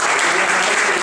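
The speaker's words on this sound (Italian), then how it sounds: "Quindi un applauso a Leonardo." A lecture audience at a cultural geography seminar claps for Leonardo in a short, dense burst of applause.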